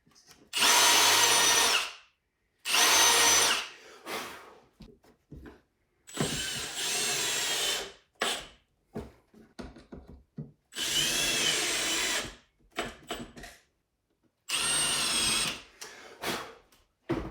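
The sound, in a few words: power drill countersinking holes near end of wooden board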